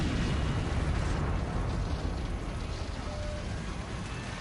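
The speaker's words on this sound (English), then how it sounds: "As the last passengers scramble to exit, Flight 358 bursts into flames." A Flight 358 airliner bursts into flames after passengers evacuate. A dense, loud roar of fire fills the clip, a continuous rumbling wash that eases only slightly toward the end.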